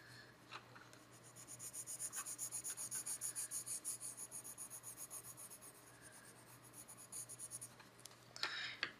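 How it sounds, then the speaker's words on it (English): Pencil shading roughly on paper with the side of the pencil: steady, rapid back-and-forth scratchy strokes in a continuous rhythm, close and quiet, with no talking. "Just block it in really roughly. Use the side of the pencil,"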